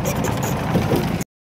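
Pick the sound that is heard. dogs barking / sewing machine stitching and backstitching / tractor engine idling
tractor engine idling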